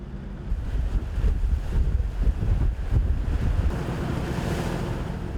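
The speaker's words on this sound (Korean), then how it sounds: "제주의 바다는 아직 파도가 거셉니다" Rough sea off Jeju just after a typhoon, heard from a fishing boat: heavy waves surge and slap against the hull under a low, gusting wind roar that buffets the microphone, loud and continuous with no voices.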